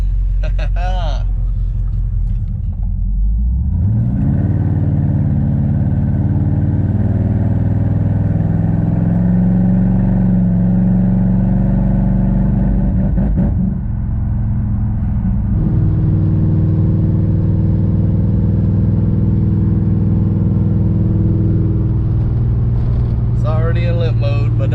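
A 1968 Dodge Charger running in limp mode rumbles loudly and continuously from inside the car, its engine note climbing and shifting through several revs as it drives, with talk over it at the start and end.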